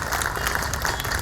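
Brief burst of audience applause in a hall during a speech about Christianity in India, dense clapping from many hands, fairly close and steady for a second or so.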